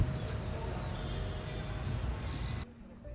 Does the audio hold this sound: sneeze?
no